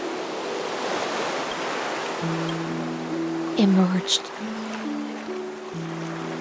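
Ocean surf from Honkai Star Rail washes in a steady, soft roar beneath sustained music tones, while a voice speaks briefly over it.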